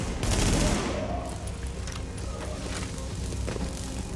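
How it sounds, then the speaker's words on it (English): Sustained bursts of gunfire from the video game Tom Clancy's The Division, loud and dense at first, then continuing as steady rapid shots with faint voices underneath. "So that shooting, that was you, right?"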